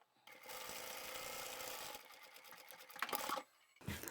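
Sewing machine stitching a straight seam across a bag pocket on a boho sling shoulder bag, a steady close whir of fast stitches that pauses briefly and then restarts.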